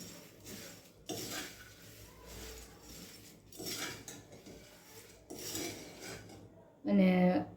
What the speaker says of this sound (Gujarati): ફ્રાય કરેલ મગફળીના બી નાખી દેવાના અને મિક્સ કરી દેવાનું